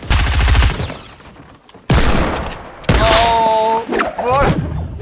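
Rapid bursts of gunfire in Fortnite, loud and close, several volleys with short gaps between them and a voice speaking over the later shots.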